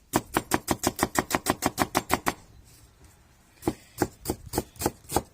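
A knife chops an onion briskly on a cutting board in a fast, even rhythm, pauses for about a second, then resumes with steady cuts, close and loud.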